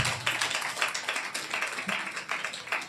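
Steady rhythmic clapping by a church congregation, repeated sharp beats at a quick even pace, moderately loud with no talking.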